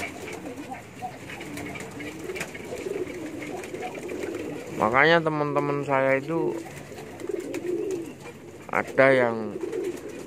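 A male Jet Metic pigeon kept for breeding gives two bursts of deep, throaty cooing close by, between stretches of someone talking in Indonesian.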